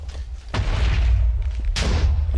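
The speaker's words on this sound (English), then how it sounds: "get the explosion sounds" In Minecraft FTB, an item pipe crammed with too many items gives off explosion sounds: two sharp booms, the first about half a second in and the second later, each trailing into a loud rumbling wash.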